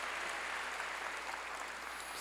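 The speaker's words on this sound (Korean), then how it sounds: "믿으면 박수로 하나님께 영광 돌려." A church congregation applauds during a Korean sermon, a dense continuous wash of clapping, fairly even and moderately loud throughout.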